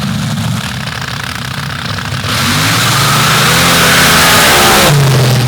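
A supercharged blower-motor drag racing car at a Missouri MRA championship round makes a pass, its engine note rising abruptly into a loud roaring rev that climbs in pitch, then shifts near the end.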